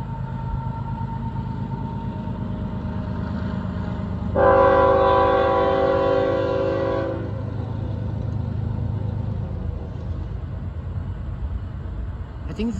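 Heavy rumble of a Norfolk Southern freight train on the Pittsburgh Line at Huntingdon, Pennsylvania, with a loud, sustained horn blast lasting a few seconds in the middle, then the rolling rumble continues.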